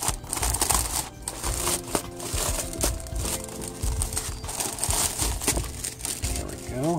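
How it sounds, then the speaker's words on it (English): A plastic bag crinkles and rustles close up as a Fallout 4 Vault 111 hoodie is unpacked, with bursts of crumpling throughout and some faint handling noise. "I guess I can take it out of the bag here on camera."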